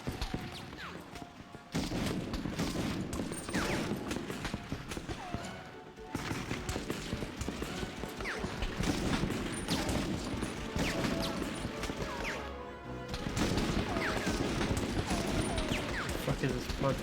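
Gunfire in the Medal of Honor video game: dense, continuous crackling volleys of shots over a busy battle soundscape, fairly loud throughout with brief dips, and speech-like chatter mixed in.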